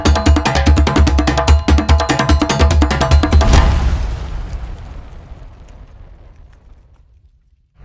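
A loud, rumbling blast of crackling bursts that roars for a few seconds, then fades away slowly into a long, dwindling tail.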